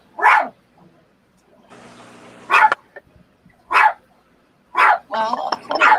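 A dog barks in sharp single barks spaced a second or so apart, close and loud, with quieter background noise between them.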